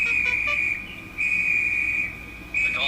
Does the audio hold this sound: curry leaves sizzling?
no